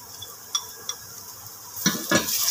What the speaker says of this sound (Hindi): ये अभी इसमें मिक्स करना है 3 से 4 मिनट तक, इसको इस तरह भुनाई करना है।